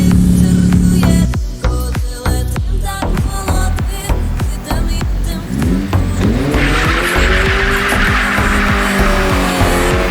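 An Opel Corsa A GSi hot hatchback's tires squeal and screech repeatedly over its roaring engine, with bursts of revving and skidding that build into a sustained howl.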